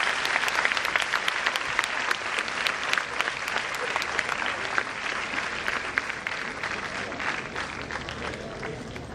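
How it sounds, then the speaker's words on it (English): A large audience applauds the departing dignitaries at a formal event, sustained and energetic clapping with scattered voices and cheers mixed in. "I would like a huge round of applause for all our dignitaries"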